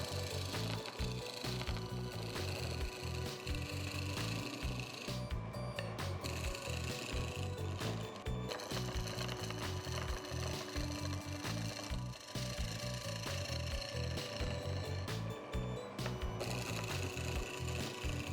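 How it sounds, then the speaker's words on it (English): Wood plate for an omelette flipper with a built-in handle spinning on a lathe while a roughing gouge shapes its upper surface: a steady, loud scraping cut with a fast rhythmic thumping underneath, continuous for the whole stretch with no talking. "I mount the plate on the lathe and start giving shape to the flipper's upper surface with a roughing gouge."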